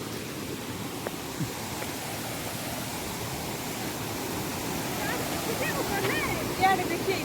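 Durgapadu waterfall pours down in a steady, broadband roar that stays constant throughout, with faint scattered sounds on top and no clear speech.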